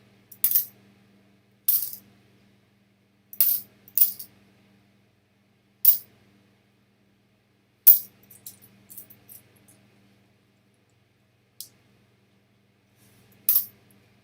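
Modern nickels are handled and dropped, giving sharp metallic clinks in scattered bursts with quiet gaps between, close and distinct with no talking.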